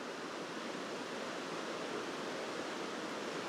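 Steady, soft rush of river water flowing on Dartmoor in winter, an even broadband wash with no breaks and no voices.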